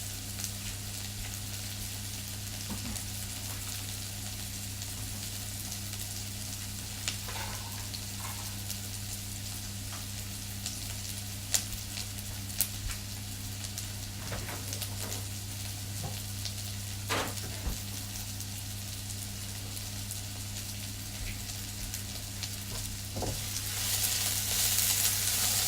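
Garlic, about two cloves' worth, fries and crisps in a pan with a steady, soft sizzle and scattered small pops running throughout, no voices.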